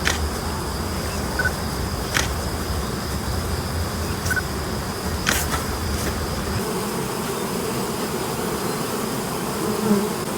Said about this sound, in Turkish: Artı deli balı arılarımız var.